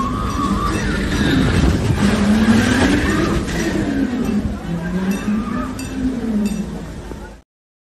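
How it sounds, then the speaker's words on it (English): A carnival roller coaster rumbles along its track with a loud, continuous roar, rattling and clanking as the cars run, while muffled voices and laughter blend into the ride noise. "So here is the roller coaster."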